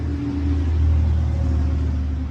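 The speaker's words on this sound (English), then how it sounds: "Trash truck." A trash truck passes close by as a loud, steady low engine rumble with a slight swell in the middle, heard on its own without speech.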